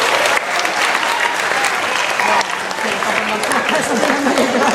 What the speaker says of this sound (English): Give her a big round of applause, everybody.